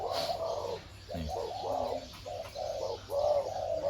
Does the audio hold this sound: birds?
yes